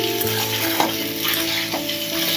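Vegetables and spices fry in a little oil for a rui fish curry, a steady close sizzle broken by a few stirring scrapes.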